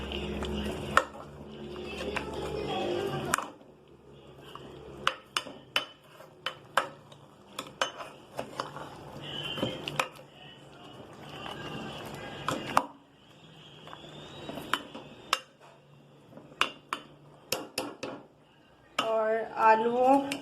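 A spoon scrapes and clinks against a pot while potatoes are mixed and pressed into masala for beef dum pukht biryani. Irregular, fairly close metallic knocks come in bursts, and a voice is heard at the start and end.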